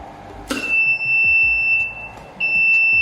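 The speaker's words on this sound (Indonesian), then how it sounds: "indikator off aktif, dan buzzer juga akan aktif" A PLC trainer buzzer sounds after its emergency stop is pressed: a click, then a steady high electronic tone, a brief pause, and the tone starting again over a low hum.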